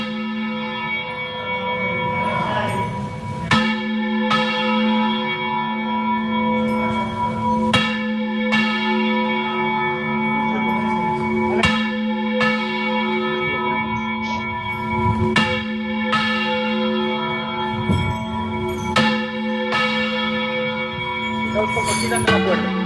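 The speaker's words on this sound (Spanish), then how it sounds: "Luego empieza a voltear como con la soga. Empieza a voltear la campana." A church bell in the Ribera del Duero, swung by hand with a rope, rings loud and resonant, its heavy strikes landing at uneven intervals over a long humming sustain, with voices heard faintly at times.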